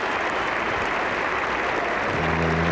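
A cricket crowd at the 1985 Ashes Fifth Test applauds a 250-run partnership, a dense, steady wash of distant clapping filling the ground throughout with no voices over it.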